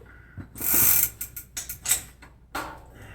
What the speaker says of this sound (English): Socket 14 mil nut in here on the axle